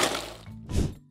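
A box is dropped and lands with two dull, close thunks in quick succession.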